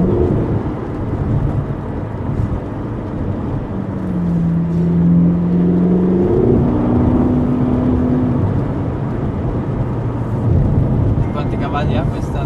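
A car engine revs as the gas is pressed, rising in a couple of steady climbing pulls midway through a constant rumbling background, with people talking over it.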